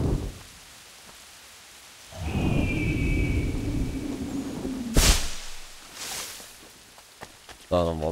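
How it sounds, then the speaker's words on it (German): Thunder and rain in Assassin's Creed III Remastered: soft rain patters, then a low thunder rumble rolls in and lingers, a sharp crack of lightning strikes, and a further thunderclap follows near the end. "Jetzt will uns gleich der Blitz treffen."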